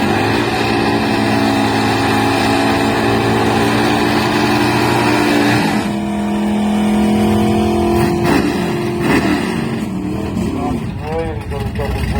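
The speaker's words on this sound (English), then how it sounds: "the all fired up Duster down there in the knockdown lane" A Duster drag racing car fires up in the knockdown lane at a Melbourne drag strip during Super Stock qualifying, its engine droning loudly and steadily before revving and shifting pitch, under continuous commentator talk.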